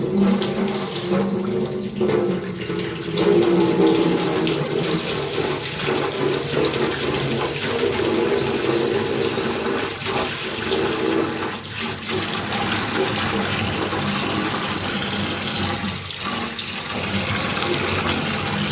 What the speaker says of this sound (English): Okay, so now I'm going to run her a lukewarm bath.